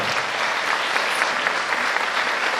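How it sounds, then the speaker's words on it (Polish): Audience applause at the Miss Polonia Ziemi Świętokrzyskiej 2008 beauty pageant, a dense continuous wash of many clapping hands in a hall, steady and fairly loud throughout. "Brawa, proszę Państwa."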